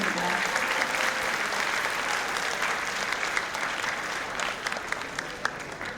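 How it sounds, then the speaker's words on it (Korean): Audience applause for award winners at the closing of the 20th World Foreigners' Korean Speech Contest, held at Kyung Hee University; dense, steady clapping from a large crowd fills the hall without pause, fairly close and loud. "수상자들에게 다시 한번 큰 축하의 박수 부탁드리겠습니다."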